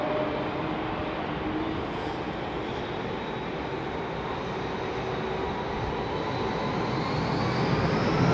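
A jet airliner lands on a wet runway at London Heathrow Airport, a steady, full broadband roar of engines and spray holding throughout and swelling louder near the end, with no voices.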